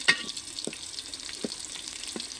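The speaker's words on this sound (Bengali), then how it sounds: "বেশি করে একটু পেঁয়াজ বেশি করে একটু তেল আর কাঁচামরিচ দিয়ে দিচ্ছি" Onions and green chillies fry in plenty of oil for khichuri, a soft steady sizzle broken by a few distinct stirring scrapes and pops, close and without talk.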